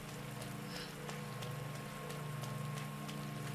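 Steady rain in the Resident Evil Ghost Survivors video game, a continuous hiss with a low rumbling bed beneath, constant and moderately loud throughout with no talking.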